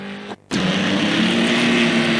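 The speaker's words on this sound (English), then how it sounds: "The crowd really loving the sort of squeaking of tyres" Group 1 racing cars at Mallory Park in 1974 roar past loudly, a dense engine blare that cuts out for a moment and then surges back and holds steady.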